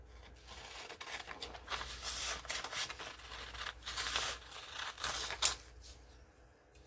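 Paper being snipped with scissors during junk journal crafting, a run of soft crisp cuts and rustles over several seconds, close and fairly quiet, with no talk.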